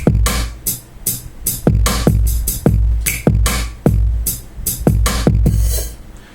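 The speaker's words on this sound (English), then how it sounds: "It's got kick, a rim, hi-hats, closed hi-hats, open hi-hats" A programmed drum beat on a Native Instruments Maschine plays punchy kick drums and sharp rim clicks under a busy pattern of closed and open hi-hats, loud and steady in a quick groove.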